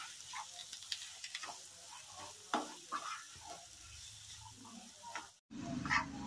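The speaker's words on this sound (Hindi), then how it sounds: "अब हम प्याज को अच्छे से भूंज लेंगे इसमें 10 मिनट के लिए।" Finely chopped onions sizzling softly in a pan with scraping stirs of a spoon, fairly quiet and close, with a brief louder clatter near the end.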